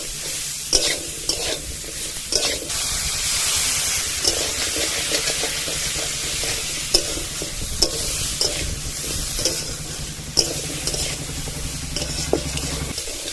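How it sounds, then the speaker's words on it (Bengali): Pumpkin stalks and potato frying in a pan over a village-style stove, a loud continuous sizzle and hiss broken by frequent spatula scrapes and clatters, close up, with no talk. "শাকের ডাঁটার আলুটা দিয়ে 2-3 মিনিট ভেজে নিয়েছি।"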